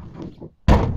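The tailgate of a 30-year-old first-generation Ford Explorer with worn rear struts drops shut with one heavy, loud thud after a moment of quieter rustling and creaking.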